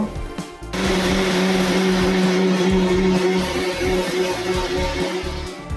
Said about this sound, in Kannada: ಮಿಕ್ಸಿ ಮಾಡೋಣ ನುಣ್ಣಗೆ ರುಬ್ಕೊಂಬರ್ಬೇಕು